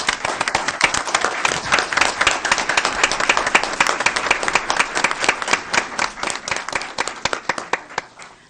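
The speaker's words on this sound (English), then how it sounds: "Let's give them one more round of applause." A school board meeting audience gives a round of applause for a national recognition. Dense, steady clapping from many hands fills the room, holding for about eight seconds before thinning slightly toward the end.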